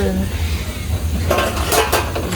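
A lid set down on a pot of chicken soup with papaya, giving a couple of close metallic clinks and rattles over a low steady kitchen hum.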